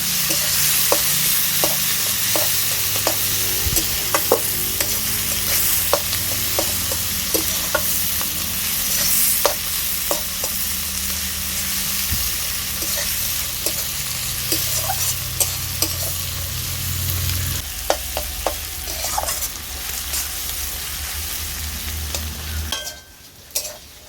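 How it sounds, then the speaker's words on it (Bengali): Chopped onion, garlic and green chilli stir-fried in a pan for fish-head kochu shak, a steady loud sizzle with repeated scraping strokes of a spatula, the frying dropping away abruptly at the very end. "এবার দিয়ে দেব পেঁয়াজ কুচি খেতে করে রাখা রসুন আর কাঁচা লঙ্কা সব কিছু ভালো করে নেড়ে চেড়ে নিচ্ছি"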